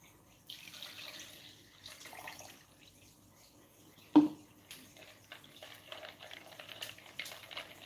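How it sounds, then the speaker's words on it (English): Fresh water poured into a container while new corals are acclimated: a close splashing and trickling flow that comes in uneven bursts, with one sharp knock midway and no voices. "I'm going to throw away the water and put fresh water right now"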